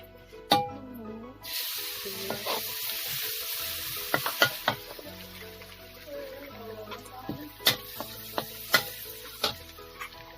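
Chili and garlic stir-fried in hot pork fat crackle and sizzle steadily, with a spatula scraping and clacking against the pan in sharp repeated strokes, close and moderately loud.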